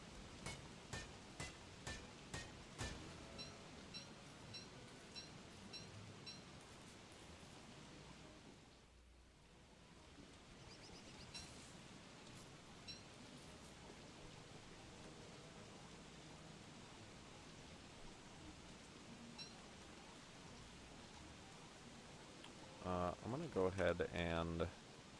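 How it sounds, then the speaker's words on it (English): Heavy rain in the video game Don't Starve: a steady, dense broadband hiss fills the scene, with a few sharp rhythmic knocks at the start and a louder burst of game sounds near the end. "Man, this is a really heavy rain."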